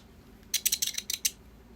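A quick series of about six crisp scissor snips, close and fairly quiet, with silence before and after.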